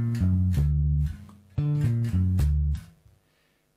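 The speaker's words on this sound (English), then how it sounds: "This is just an exercise which involves the diminished arpeggio." A bass guitar plays a diminished arpeggio finger exercise: two runs of four low, clean plucked notes climbing in steady rhythm, each note sustained, with a short pause between runs and silence at the end.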